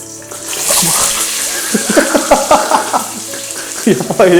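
Onions frying in hot oil for biryani hiss and spatter in a pan at close range and fairly loud, while a person talks over the sizzle.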